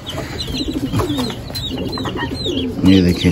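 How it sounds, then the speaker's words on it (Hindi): Chukar and turkey chicks call together at close range, a busy mix of soft cooing and high cheeping peeps, with a voice speaking briefly over the birds. "ये चकोर के हैं दो, जो इस तरफ हैं ये वाले, और बाकी जो उनसे हैं ये हमारा टर्की के चूजा"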